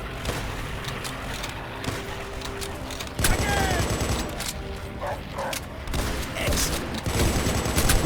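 Wartime gunfire in the Call of Duty: World at War Stalingrad mission crackles continuously in rapid bursts of rifle and machine-gun shots over dense battle noise, with shouted voices mixed in.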